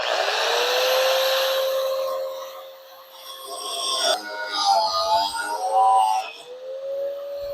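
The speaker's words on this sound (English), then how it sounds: "So we do that with a grinder." An angle grinder cuts through a 16-inch steel rod for a homemade steak flipper, giving a loud whining rasp that falls away and then returns with shifting pitch as the blade bites and is eased off.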